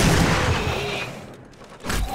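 Gunfire in the video game 7 Days to Die rattles in a dense, loud burst at the start, fades briefly, then another sharp shot cracks near the end.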